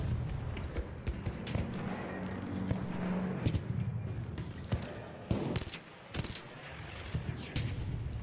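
Gunfire in the video game Arc Raiders comes as rapid bursts and single sharp shots, some close and loud, others softer, scattered irregularly over a rumbling background.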